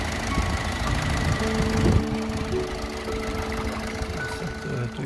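A 2009 Toyota Yaris with a timing-chain engine running steadily at close range, a continuous mid-pitched motor hum with faint rhythmic ticking and no talk.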